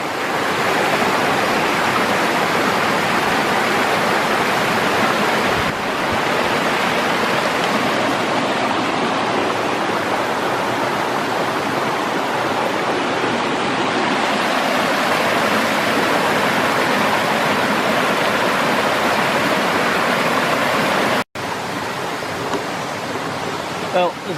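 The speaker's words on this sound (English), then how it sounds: "Yeah, there's a little waterfall of sorts." A small waterfall on a woodland stream in a nature preserve, a steady broadband rush of falling water heard close and loud for the whole stretch, with only a brief break near the end.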